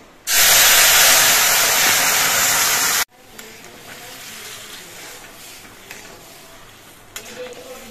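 Kalai (urad) lentils hit a hot pan of fried ginger and burst into a loud, close, hissing sizzle lasting about three seconds before dropping to a quieter simmer with faint clatter.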